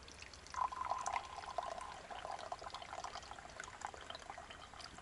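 Liquid being poured carefully from a thermos, a soft trickling and splashing stream, faint and close, continuing for several seconds.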